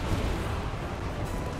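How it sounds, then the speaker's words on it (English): Dense, rumbling booms overlap in a continuous barrage of heavy cannon fire in the video game Kingdom Hearts 3, loud and low, with no pauses for over a second. "Cannons!"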